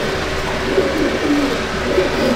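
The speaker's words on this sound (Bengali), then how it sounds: "এটা পুরো বন্ধ লেজের পায়রা" Old-line Madrasi Kalduma pigeons with closed tails coo softly in low, repeated murmurs under a steady background hum, with no talk.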